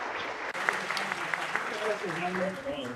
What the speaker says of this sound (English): a big round of applause once again for these wonderful presenters